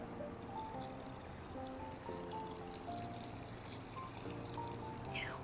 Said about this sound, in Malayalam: ഇനി ഇത് നമ്മൾ തിളപ്പിച്ച് ആർച്ച് വെച്ചിരിക്കുന്ന വെള്ളമാണ്. അപ്പോൾ ഇതിനി ഒഴിച്ചു കൊടുക്കുക.